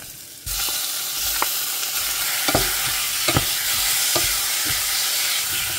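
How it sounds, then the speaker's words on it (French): Meat browning in olive oil in a frying pan after shallots, a steady loud sizzle with several sharp stirring scrapes and clicks spaced through it. "je fais dorer la viande"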